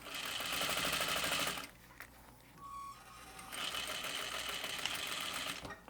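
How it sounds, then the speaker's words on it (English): A sewing machine stitches a double-fold wristlet strap in two steady runs of fast, even stitching. There is a quieter pause between them with a brief electronic tone. "I'm going to sew right over them"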